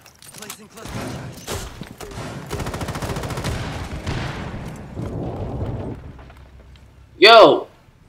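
Rainbow Six Siege firefight with a sustained run of automatic gunfire over several seconds, loud and close, then one sharp louder blast near the end.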